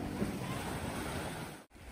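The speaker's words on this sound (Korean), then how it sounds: "서쪽 해변이라 파도는 좀 있는 편이다." Steady ocean surf at Thomas Beach on Bali's west-facing Uluwatu coast, a broad continuous wash of waves with some wind across the microphone and a brief dropout near the end.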